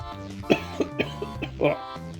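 Several sharp coughs in quick succession, close and fairly loud, with short throat-clearing bursts between them over a steady low background.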